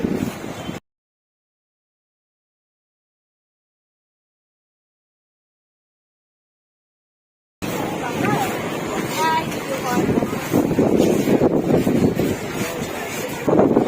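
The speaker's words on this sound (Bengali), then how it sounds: "কি দারুণ হাওয়া দিচ্ছে" Strong evening wind on the beach at Old Digha roars steadily into the microphone after a long silence, with voices talking faintly beneath the gusts.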